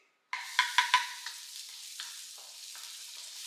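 Crackling sizzle as fermented black beans hit hot oil in a wok, with a few sharp pops and spatters at the start, then a quieter continuous frying hiss.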